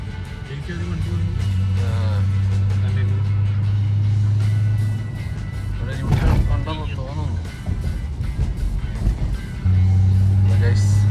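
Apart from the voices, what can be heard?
Nissan Skyline GTR R34 engine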